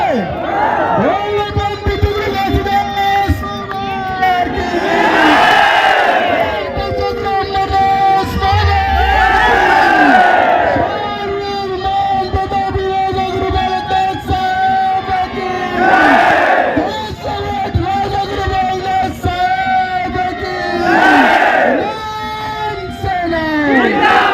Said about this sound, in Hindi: ताली के गड़गड़ाहट के साथ गुरु के जयकारा में शामिल होकर के आशीर्वाद प्राप्त करना है।